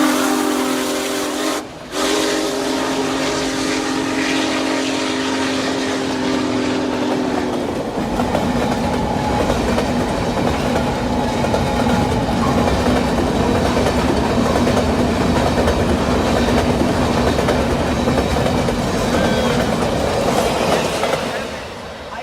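A steam train runs loudly with a long whistle blast at the start, then a continuous hissing, rumbling roll, while voices are faintly audible underneath.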